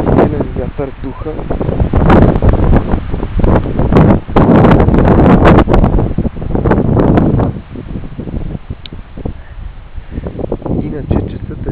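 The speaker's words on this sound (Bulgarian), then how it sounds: "Силен вятър духа." Strong mountain wind buffets the microphone below Mytikas summit on Mount Olympus, roaring in loud, gusty surges that rise and fall throughout with no pause.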